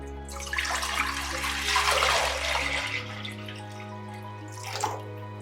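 About two litres of water poured into a casserole pot for boiling, a steady splashing, gushing stream over a low hum that eases after a few seconds and ends with a last brief splash.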